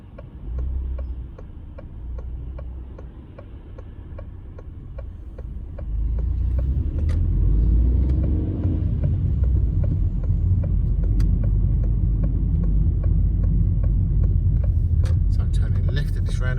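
A car on a driving test route in Gillingham gives a low engine rumble and road noise that swells as it speeds up, while the indicator ticks rhythmically throughout and someone talks over it.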